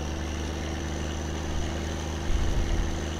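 A car engine idles steadily in the driving game My Summer Car, a low continuous rumble heard alone with a slight surge near the end.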